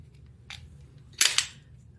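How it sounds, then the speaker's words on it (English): SIG Sauer P365 X-Macro pistol trigger pressed through its wall, with a faint tick followed by a sharp, close double click, then silence. "Pushing, you have a wall, then you click"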